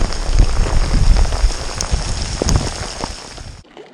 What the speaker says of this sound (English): raining, it'll rain and stop, rain, stop, pouring down really hard right now,